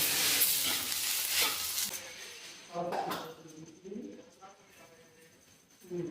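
Sesame powder and a spice powder stirred by hand into a leafy-shoot chutney, a soft scraping and mixing rustle with brief gritty bursts, close by, while someone talks over it and birds coo faintly in the background.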